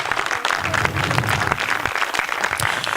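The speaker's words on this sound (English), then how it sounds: "we definitely owe him this evening a round of applause as well, ladies and gentlemen" Applause at an awards ceremony: a short, steady burst of crowd clapping in an indoor hall, dense and moderately loud throughout.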